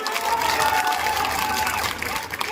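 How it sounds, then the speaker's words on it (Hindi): Crowd at an outdoor political rally in Sadulshahar clapping loudly, a dense, continuous wash of applause with some cheering, steady throughout and slightly distant. "आज की सभा के लिए प्रदीप जी और आत्माराम जी बहुत मेहनत करी, मांग लिए जोरदार ताली बजा दो"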